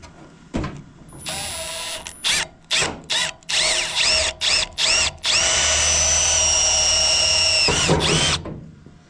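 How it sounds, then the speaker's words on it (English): A power drill drills a hole while installing a tool box on a GMC 3500 AT4 truck, whirring in several short bursts, then one long steady spin before winding down, close and loud, with no talking. "And then I'm going to drill the hole so that this whole thing will sit down."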